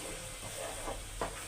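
A thick amla candy mixture with cornflour simmers in a pan, giving a soft, steady sizzle and hiss, with a few faint scrapes of stirring over it.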